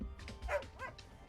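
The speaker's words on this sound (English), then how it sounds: "Oh my god. It's the dog!" Dog in the Nancy Drew: Sea of Darkness video game giving a few short yipping barks and whimpers, close and fairly quiet, with no talking.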